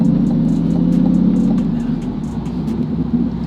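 A C8 Corvette fitted with a heads and cam package and a BD850 drives past with a deep, loud engine drone and road rumble that eases slightly toward the end. Brief ticking sounds sit on top.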